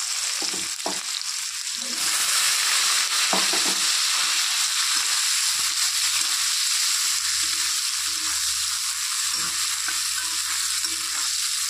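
A chopped onion fries toward browning for an egg curry, the loud, dense sizzle holding steady throughout while a spatula scrapes and taps against the pan in scattered strokes.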